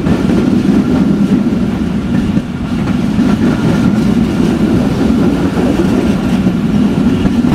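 Banglabandha Express running on old coaches between Panchagarh and Abdulpur Junction: a loud, steady rumble of rolling wagons with faint clattering throughout, no voices.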